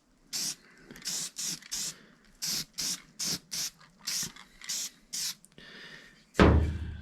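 Short bursts of aerosol spray as Eastwood rust converter is applied to a 1959 Willys Jeep truck, about a dozen quick hissing pulses in an uneven rhythm, close and fairly loud, ending with a sharp clatter.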